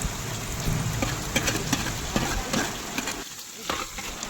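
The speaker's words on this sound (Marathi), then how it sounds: "हे चालू आहे फोडणी" Spices and ingredients for a village-style mutton biryani tempering sizzle steadily in hot oil outdoors on a farm, with scraping stir strokes through the pan and a brief quieter dip near the end.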